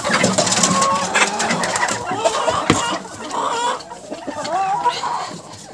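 A flock of farmyard chickens clucking and chattering at feeding time, many birds close by in a continuous busy jumble, with a voice calling to them now and then.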